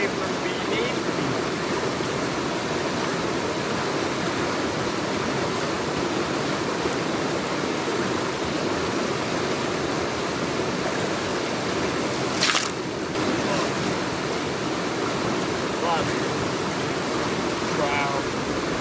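Fast-flowing stream water rushes over and washes away gravel, a loud, continuous broadband roar heard close up, steady throughout with a brief splashing disturbance partway through.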